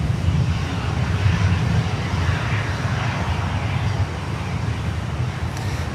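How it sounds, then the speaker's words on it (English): An American Airlines A319 arriving at Miami airport from Bermuda makes a loud, continuous jet engine roar that holds steady and then eases slightly, with no talk over it. "next inbound, A319, American Airlines from Bermuda"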